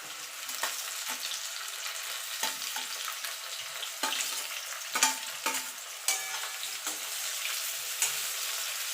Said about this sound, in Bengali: এই তেলে ইঁচড়গুলো ভেজে নেব খুব বেশি না হালকা করে ভাজবো